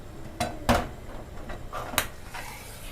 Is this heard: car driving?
no